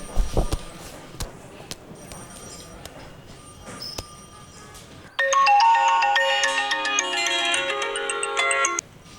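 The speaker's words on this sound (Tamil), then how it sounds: "சார், ரிங் ஆகுது சார்." A telephone ringtone on a call in a Tamil-dubbed crime thriller, a loud electronic melodic ring that starts abruptly midway and repeats steadily, following a quieter stretch of background noise.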